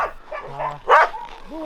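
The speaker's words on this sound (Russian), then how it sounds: "Да, западная лайка." A West Siberian Laika, a hunting dog taken out for muskrat in Yakutia, gives a short yelping bark with whiny whimpers around it, close and loud, as people talk in the background.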